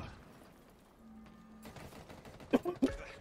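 Weapon fire in the video game Halo Infinite, with a few sharp single shots in quick succession near the end following quieter game ambience.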